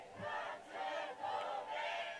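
A concert crowd shouts together on cue in a few swelling waves, a distant, massed roar of many voices rising and falling across the hall.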